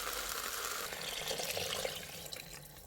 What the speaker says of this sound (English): So just add water enough to cover the whole meat.